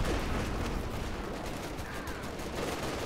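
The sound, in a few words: artillery barrage called in by a Pershing tank, from a video game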